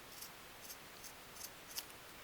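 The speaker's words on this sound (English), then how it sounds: "I'm just going to cut it." Scissors snipping fabric while making a woven scrap fabric basket, five faint, evenly spaced cuts over a low background hiss.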